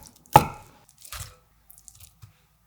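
A knife chops through chives and tofu on a cutting board, one sharp close knock followed by a couple of softer, scattered taps, with no talking.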